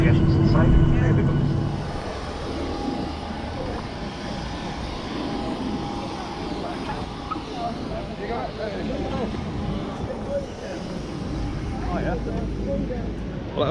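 A Ryanair airliner taxiing after landing gives off a steady, loud cabin rumble of engine and airframe noise. It runs continuously throughout, with faint murmurs in the cabin.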